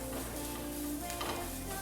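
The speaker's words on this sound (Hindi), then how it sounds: "देखिए ऐसे मिक्स कर लें" A spatula scrapes and stirs spices into cooked keema in a pan, a soft, steady close-up mixing with faint sizzle and no talk.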